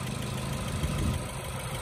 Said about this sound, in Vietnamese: Máy nổ rất là êm luôn